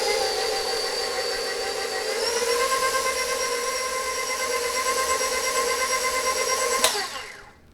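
Electric mixer beating cheesecake batter of cream cheese, cream and vanilla on low speed: a steady, loud, whirring motor drone that holds for several seconds, then winds down abruptly at the end, with no talk.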